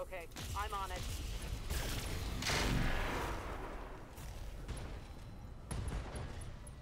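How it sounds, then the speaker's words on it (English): A mech unloads all its weapons at once in the Roguetech battle game, a dense barrage of gunfire and booming impacts that builds to a loud peak midway, with a voice talking over parts of it. "And targeting this guy with everything and firing."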